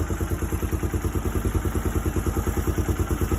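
A Kawasaki KLF300 Bayou 4x4 quad with a fault settles back to a steady idle, its engine putting out a close, loud, even chugging pulse with a rhythmic knock throughout.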